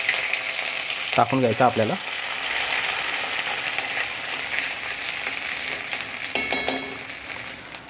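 Ginger-garlic paste frying in hot oil in a kadhai for egg bhurji gravy, a continuous close sizzle with someone speaking briefly over it.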